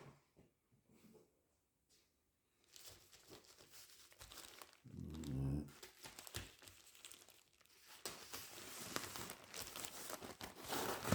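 A black plastic bag is opened close up. Quiet rustles at first give way to loud, continuous crinkling and crumpling, with a heavier thud partway through.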